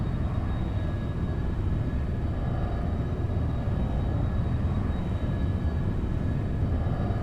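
Boeing 707-120B jet engines at max takeoff power in the X-Plane 12 flight simulator, a loud, steady, dense low roar that holds constant throughout.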